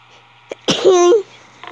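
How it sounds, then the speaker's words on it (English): A single loud, sharp human sneeze, close up, with a short breathy intake just before the explosive burst and quiet afterward. "I just sneezed."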